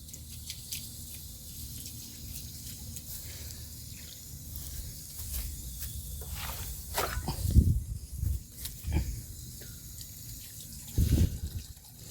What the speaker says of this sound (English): Water to the rescue.